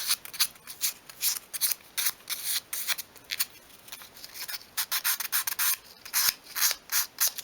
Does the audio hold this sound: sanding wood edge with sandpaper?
yes